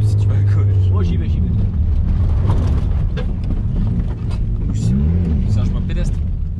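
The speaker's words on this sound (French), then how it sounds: "Je vais faire un petit frein à main." A Peugeot 106 engine revs loudly and continuously during a handbrake turn on a rough footpath, heard from inside the car with tyre and road rumble, while people talk over it.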